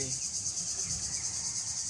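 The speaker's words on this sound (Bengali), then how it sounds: "ঝিঝি পোকার শব্দে" Crickets chirp in a continuous high, shrill trill at dawn, steady and even, with faint low background noise beneath.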